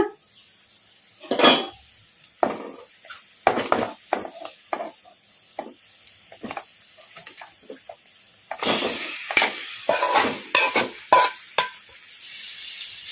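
Marinated chicken being stirred in a hot pan on high flame, with irregular scraping and clattering spoon strokes over a faint sizzle that grows louder and denser toward the end.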